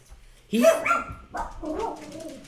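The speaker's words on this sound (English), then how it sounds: "The dogs at any point would want to be in the live stream." Dogs barking indoors during a live stream: a couple of loud, close yelping barks that break into a whimpering, yipping tail, with talk nearby.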